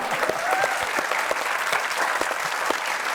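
Audience applause for a singer at a comedy talk show, a dense, steady clapping from a large studio crowd that holds for the whole stretch without a break.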